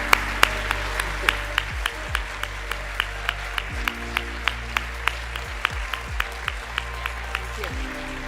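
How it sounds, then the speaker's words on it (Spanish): An audience at a conference gives sustained applause, a dense even patter of clapping with regular sharp claps standing out over a steady low hum. "Un fuerte aplauso."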